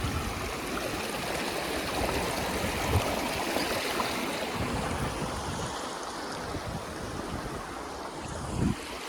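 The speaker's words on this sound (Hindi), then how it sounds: "झरना नंबर 3 आ गया है यहाँ पे," Rushing water roars steadily and broadly, a constant nearby waterfall torrent with no voices.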